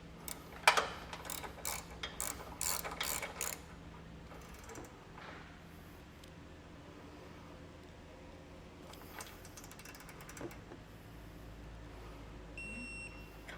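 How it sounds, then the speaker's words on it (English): Ratchet clicks in a quick burst of bursts while bolts on a base plate of a 2017 Chevrolet Equinox are snugged down, fairly close, then fading to quiet workshop hum with a few later clicks. "Now we'll go ahead and get everything snugged down and torque it down to specs."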